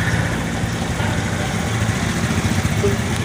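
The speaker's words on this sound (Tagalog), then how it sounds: "Tabi lang muna natin yung motor." A motorcycle engine idles steadily while being pulled over and parked, a loud, continuous low rumble that holds throughout at close range.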